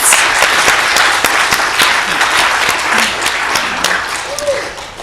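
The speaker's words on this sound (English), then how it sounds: "another round of applause for our panelists" An audience applauds the panelists at a careers-in-management event, dense and loud clapping filling five seconds without a break, with a few voices murmuring underneath.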